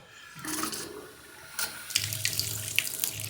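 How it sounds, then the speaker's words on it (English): An old bathtub faucet, just repaired after a leak, is turned back on: a brief gush starts, stops, then water runs steadily with splashing and a few knocks of the fixture close by. "so turn the water back on."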